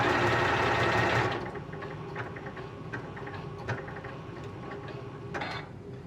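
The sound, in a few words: Janome Continental M6 sewing machine stitching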